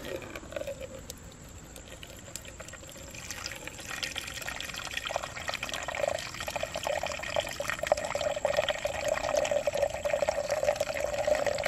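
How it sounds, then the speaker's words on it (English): Water from a ram pump's delivery pipe pours into a plastic bucket, a continuous splashing patter that grows fuller and louder as the bucket fills, with no voices. "So I'm gonna stick this bucket with tape on it under here and get the time it takes for the water to reach this line."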